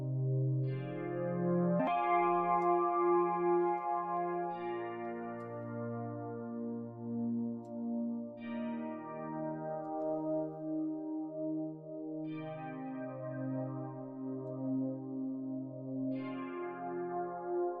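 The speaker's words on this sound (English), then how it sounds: "That gives it a nice chorusy thing going on." Synth music with a thick chorus effect, sustained chords shifting every few seconds with bright swelling attacks, steady and moderately loud with no voices.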